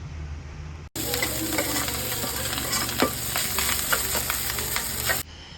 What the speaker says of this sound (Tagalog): Aantayin lang natin na magisa dito ang bawang